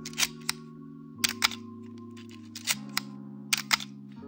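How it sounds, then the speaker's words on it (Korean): At a slow 1/8 second setting, the shutter of a Canon AE-1 film camera fires repeatedly. Each firing is a pair of sharp, close clicks spaced a fraction of a second apart, over soft steady background music. "셔터가 굉장히 오래 열려있죠."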